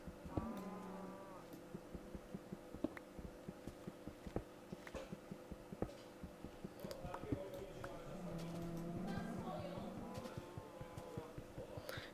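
Several cows moo in long, low calls amid a steady stream of soft clicks and taps, with a faint hum underneath, in the video game Minecraft.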